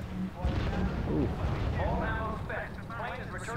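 Artillery and explosions from the WWII strategy game R.U.S.E. rumble and boom in a battle soundscape, with low blasts rolling beneath someone talking throughout.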